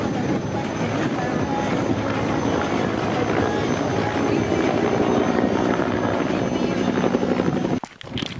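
A helicopter flying aerobatic figures at an outdoor helicopter event gives off a loud, continuous rotor roar and engine whine that holds steady for several seconds, then cuts off abruptly near the end.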